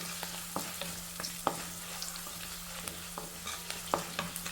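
Boiled potatoes fried in a pan and mixed with salt, turmeric and coriander powder: a soft sizzle under irregular scraping taps of a spoon stirring, close and moderately quiet, with no voices.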